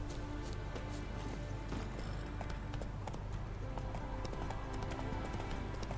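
Roach, a horse in the game The Witcher 3, gallops on a racetrack with steady, rapid hoofbeats carried under continuous game ambience and music at a moderate level.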